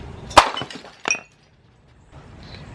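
A sharp crash of ceramic breaking on a hard floor, followed a moment later by a smaller clink of shards settling, then quiet.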